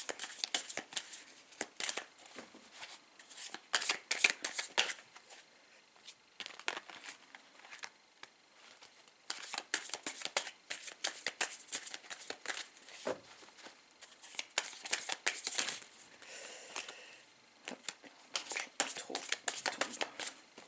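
Tarot cards shuffled and cut by hand, a steady run of crisp riffling, flicking and slapping card sounds close up, with short pauses between bursts and no talking.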